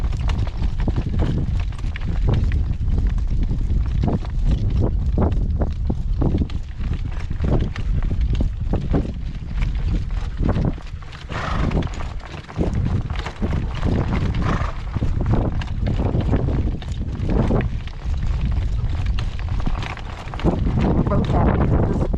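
A horse in a working trot on a gale-force windy day, with steady clip-clopping hooves under heavy wind buffeting the microphone, and a person talking intermittently.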